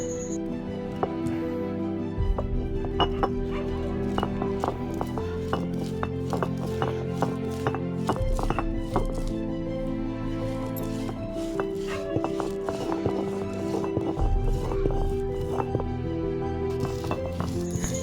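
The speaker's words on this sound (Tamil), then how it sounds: "இப்போ புளியை அது கூட வச்சு நல்லா அரைச்சிக்கலாம்" A mixer grinder grinds tamarind with dried red chilies, its motor whirring steadily with a gritty, churning texture and slight shifts in pitch, running alone without talk throughout.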